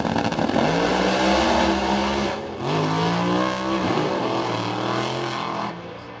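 Drag racing cars launch down the strip at The Bend, engines roaring loud and continuous with rising revs and a brief dip midway before the roar carries on. No voices.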